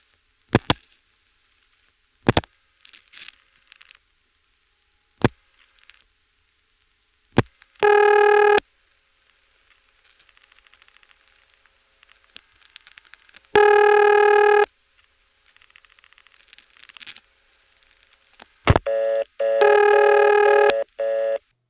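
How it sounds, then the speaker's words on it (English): Telephone dialing heard through GTE/Leich CXP-5 and Stromberg XY step-by-step switches: sharp isolated clicks of dial pulses spaced seconds apart, broken by three bursts of harsh buzzing tone, with switching hum in the background. "We actually heard the hums in the background changing as we went from the Stromberg XY selector to the connector."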